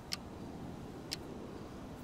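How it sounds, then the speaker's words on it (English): Countdown ticking in the game GTA 5 Chaos Mod: two sharp, faint ticks about a second apart over a quiet background, with no voices. "it's under 30 seconds because I hear the ticking"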